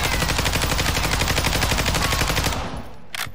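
A Lachman 556 assault rifle in a video game fires a rapid, steady automatic stream of shots for about two and a half seconds, loud and close, then stops, leaving a short mechanical click.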